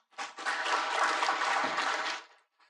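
Audience at a public-private partnerships panel floor session applauding the panelists, a brief full burst of clapping that rises quickly, holds for about two seconds and stops.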